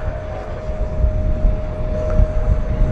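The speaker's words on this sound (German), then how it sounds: "Der Hubschrauber, den wir heute sehen, die Chinook, ist aus England von der Royal Air Force" A Royal Air Force Boeing-Vertol CH-47 Chinook at the ILA Berlin air show gives off a steady low rotor and engine rumble with a faint constant tone, moderately loud and heard alone.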